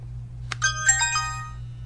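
Message notification tones from a Pantech Pursuit P9020 phone with a SIM card inserted: a short click followed by a bright, layered chime melody lasting about a second, clear and close over a steady low electrical hum.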